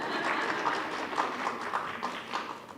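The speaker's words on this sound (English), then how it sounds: "You can continue to applaud." Light, scattered applause from a modest audience at a library reading event, a soft steady patter of clapping that runs throughout the clip without voices.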